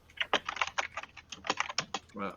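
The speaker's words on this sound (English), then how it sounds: "your microphone got really loud for your keyboard" Rapid typing on a computer keyboard sits very close to a voice-chat microphone, with loud, uneven clusters of key clacks and a final heavier keystroke.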